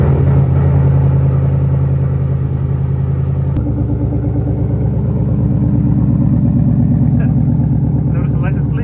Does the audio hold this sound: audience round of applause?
no